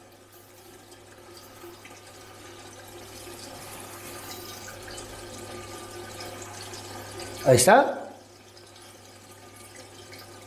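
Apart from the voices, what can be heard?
water filling an aquarium nitrate reactor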